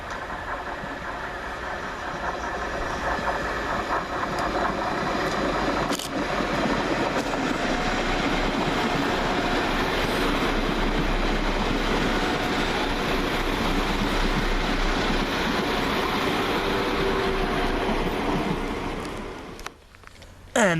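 West Midlands Railway passenger train 172335 arrives at Stourbridge Junction station, a loud sustained diesel rumble and rolling wheel noise with faint clicks, holding steady before dropping away abruptly near the end.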